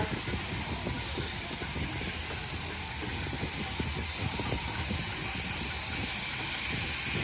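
A converted steamroller engine entering the ring at the Torbay steam rally gives off a steady, continuous hiss of steam. Low chuffing and mechanical rumble run underneath, with a busy outdoor crowd in the background.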